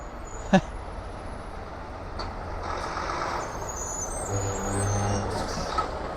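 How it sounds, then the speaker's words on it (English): A delivery truck idles on 11th Avenue in Brooklyn, a low rumbling engine with a sharp air-brake hiss and faint beeps over steady street noise. "this truck is doing a delivery."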